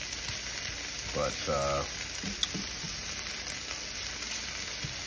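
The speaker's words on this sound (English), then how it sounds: "what I do is I fry this up for a few seconds" Breakfast burrito filling frying in a pan, a soft continuous sizzle heard at close range under a steady background hiss, with a brief spoken word and a few light clinks.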